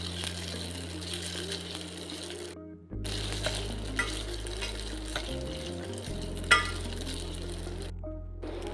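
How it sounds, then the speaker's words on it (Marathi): Whole rice sautéed in ghee in a pan for a sabudana kheer, giving a continuous low sizzle with scraping stirs and occasional clinks of the spoon against the pan. The sizzle breaks off briefly near the start and end. "ह्यामध्ये मी साबूत तांदूळ टाकते. तो आपल्याला छान असा परतून घ्यायचा आहे."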